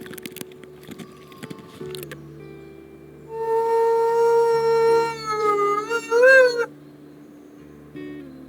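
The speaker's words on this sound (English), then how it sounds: "We're gonna howl low." A wolf howls in the video game WolfQuest: Rising Moon, a long sustained tonal call that wavers and bends in pitch near the end, with quieter game ambience before and after.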